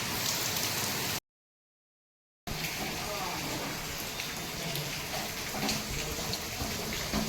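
Heavy rain falling steadily in Bhadrak district, a dense continuous wash that breaks off briefly into silence and then resumes at full strength, with scattered brighter drips.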